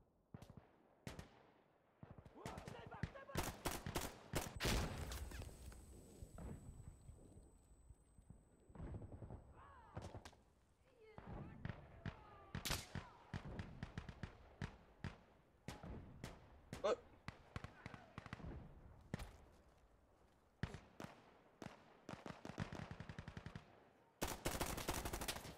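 Rapid bursts of gunfire in an Italian-played video game shooter, sharp repeated shots and automatic fire in clusters, loud and close, with voices talking between and over the shooting.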